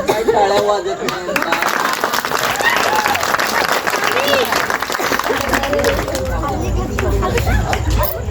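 An audience at a hypnosis stage show in Ghunaki claps in a dense, sustained burst, mixed with crowd chatter and a voice speaking over it.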